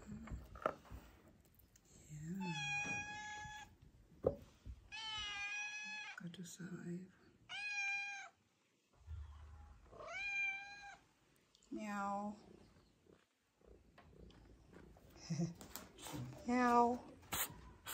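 A person voices a series of meow sounds that mimic a cat, several drawn-out calls separated by short pauses, close and fairly loud, with a few other voices and faint background noise between them.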